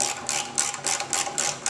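Gas tank bolts on a steel-frame Victory motorcycle are tightened with a hand tool, giving a steady run of quick, close ratcheting bursts in an even rhythm.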